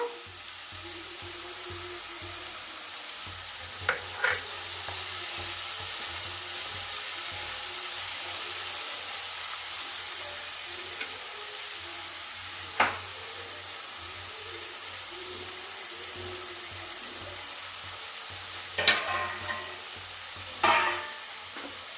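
Ridge gourd curry sizzles steadily in a pan as it is stirred, a constant frying hiss with occasional sharp scrapes and clinks of the spoon against the pan, no talking.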